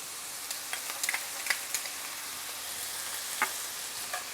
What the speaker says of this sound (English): As soon as your onions begin to sweat, then you could add your garlic.